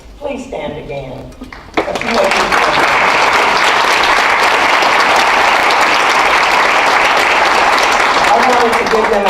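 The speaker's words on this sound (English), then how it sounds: "I wanted to give them another round of applause" Loud, sustained applause from a large audience honoring the DeSoto City Council at the mayor's State of the City address, breaking in sharply after a voice and continuing as dense, even clapping.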